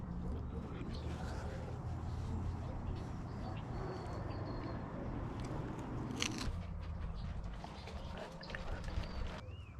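Crunchy wild morel mushroom pizza being bitten and chewed outdoors, steady soft crunching under a continuous background hiss with birds faintly audible.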